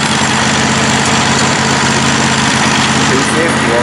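A John Deere mower converted into a mud mower idles close by with a loud, steady low rumble and an even mechanical throb, running alone without any break.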